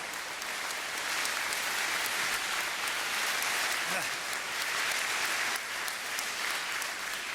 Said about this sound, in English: Let's give her a Brock University round of applause.